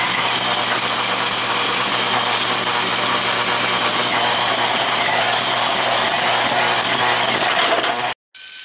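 Ryobi 8.5 amp corded electric 11-inch tiller cultivator running steadily and loud in a garden, a constant motor whine with churning, then cutting off abruptly near the end before briefly restarting.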